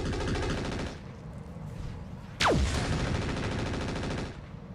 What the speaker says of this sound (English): Sound like every one of these fired a Gauss.